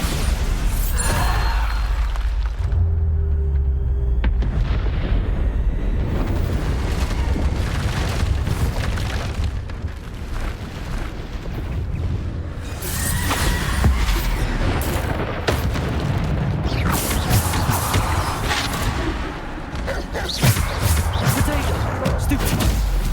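Bombarda explosion spells cast repeatedly in Hogwarts Legacy, heavy booming blasts recurring through a dense, loud game battle soundscape with other spell effects, while a voice calls out spell names.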